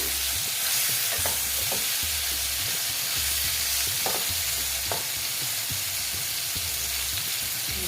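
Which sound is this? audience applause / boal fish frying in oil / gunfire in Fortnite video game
boal fish frying in oil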